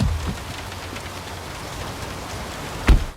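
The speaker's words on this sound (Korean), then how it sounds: "순식간에 빗방울이 굵어지며 거리가 젖어가고" Heavy rain pours onto a city street in a film scene, a dense continuous hiss of drops with a brief louder splash or thud near the end, no voices.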